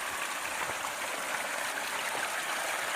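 Mountain spring water gushes out of the hillside beside a canyon trail and spills over an edge, a steady, close, broadband rushing and splashing that holds even throughout with no voices.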